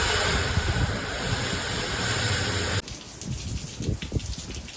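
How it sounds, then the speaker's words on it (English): Loud, dense rush of heavy rain with roaring wind during a sudden storm in Sao Paulo, dropping abruptly to a lighter patter of rain on surfaces. "A sudden storm struck Sao Paulo, unleashing heavy rain and wind."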